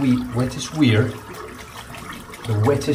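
A bathroom tap runs steadily as a Semogue OC 2012 boar-and-badger shaving brush is rinsed under it, the water partly masked by someone talking close by.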